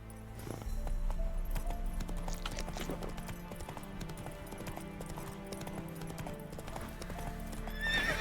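Horse hooves galloping in the video game The Witcher 3, a steady close clip-clop rhythm with occasional neighing over a continuous game soundscape, no talking.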